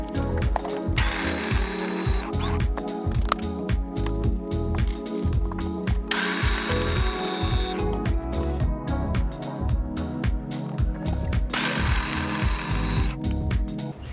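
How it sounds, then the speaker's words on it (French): A grinder breaks pumpkin seeds down into fine flour in short, loud mechanical bursts, with three stronger whirring pulses amid a clattering, rattling rhythm and no talking. "je vais broyer les graines de citrouille, juste un peu à la fois parce que je veux vraiment en faire une fine farine"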